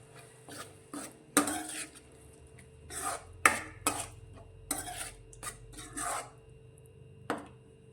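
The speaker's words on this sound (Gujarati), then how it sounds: "મસાલા પણ આપણા તેલમાં સારી રીતે સંતરાઈ ગયા છે ને આ રીતે તેલ પણ છૂટું પડી ગયું છે" Spice paste is stirred and sautéed in oil in a metal kadai, with a rhythmic series of scraping, clanking spatula strokes over a faint low sizzle.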